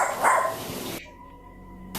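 A dog, caught on home security cameras, gives a couple of loud nearby barks at the start, then the sound cuts to quiet near-silence.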